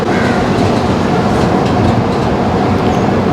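The Island Express rolls out of Ernakulam Town railway station in Kerala with a loud, continuous rumble heard from on board, steady wheel and carriage noise filling the whole stretch.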